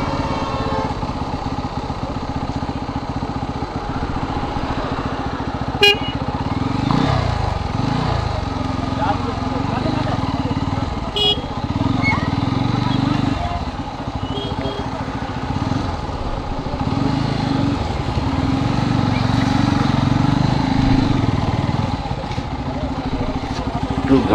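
Many motorcycles idle and rumble at a busy Independence Day ride gathering outside Hotel Nabanna, a steady engine drone that runs the whole time beneath a crowd's voices, with a few sharp clicks.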